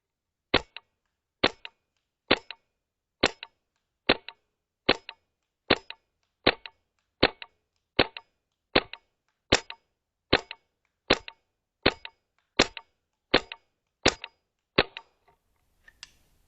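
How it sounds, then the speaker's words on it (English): Valken M17 paintball marker firing about nineteen evenly spaced, sharp shots into woodland at 285 feet per second, loud and close, in a steady semi-automatic rhythm with no talking until the magazine runs empty. "Test number 1, we're going to fire off into the woods as far as I think I'll be able to keep a decent grouping."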